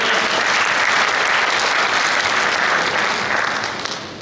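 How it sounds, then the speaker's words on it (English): Audience at a Rotary gathering applauding loudly and steadily, a dense wash of clapping that holds for about four seconds before starting to fade. "can we have a round of applause?"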